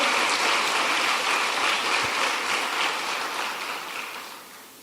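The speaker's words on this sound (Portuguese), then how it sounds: "Você pode aplaudir ao Senhor." A church congregation applauds during a Sunday service, a dense, steady wash of many hands clapping close and loud that thins and fades over the final second.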